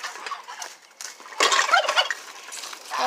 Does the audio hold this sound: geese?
yes